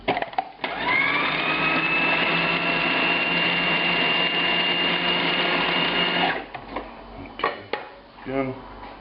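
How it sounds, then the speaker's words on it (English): A motorized grinder or mixer works a veal or pork meatball mixture with breadcrumbs and seasonings, a loud steady whirring hum for about six seconds that stops abruptly, followed by a few clattering knocks. "We'll grind this some more before we add the liquid components."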